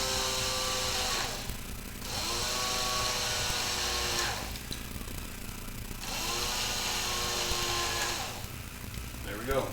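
A motorized screwdriver drives screws back into a Rock 'em Sock 'em Robots toy being hacked, whirring in three bursts of about two seconds each with brief pauses between, close and steady, no talk over it.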